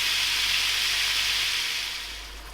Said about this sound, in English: we'll just cook that up until the meat's nice and brown